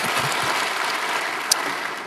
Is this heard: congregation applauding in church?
yes